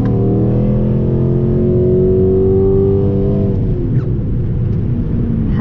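A Chrysler 300C engine hums and rises in pitch as the car accelerates while driving, a loud steady drone heard up close from inside, with a gear shift near the end.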